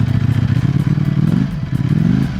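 Ducati Panigale V4S motorcycle engine idling at low revs, a loud, close, steady lumpy throb with a twin-like pulsing beat and slight rise and fall in revs throughout.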